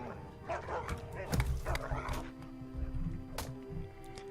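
A dog barks and yips in the strategy game Majesty 2, several short barks scattered over layered game effects and a steady background tone, with someone talking at moments.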